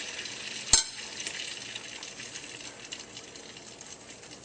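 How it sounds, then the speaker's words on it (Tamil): Kandarappam batter frying in hot oil over a moderate flame for a Chettinad recipe, a steady close sizzle with one sharp splash as the batter goes in, then continuous bubbling crackle. "எண்ணெய் நன்றாக காய்ந்தவுடன் அடுப்பை மிதமாக வைத்துக்கொண்டு பணியாரம் ஊற்ற வேண்டும்."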